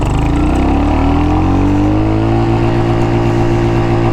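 A Royal Enfield Hunter 350 motorcycle pulls hard through first gear to its top, the single-cylinder engine's loud, close drone rising steadily in pitch without a break.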